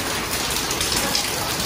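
Steady rain pours down in a narrow Vietnamese alley outside the Nguyen Trung Truc temple where lottery ticket sellers queue, a dense, even hiss of drops filling the whole moment without a break.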